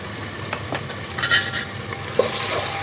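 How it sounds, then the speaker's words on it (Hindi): Garlic and ginger fry with onions in a pan, giving a steady close sizzle broken by stirring scrapes and the occasional clink of a utensil, with no voices. "लहसुन अदरक को भून लेंगे, इसे कच्चापन दूर कर लेंगे।"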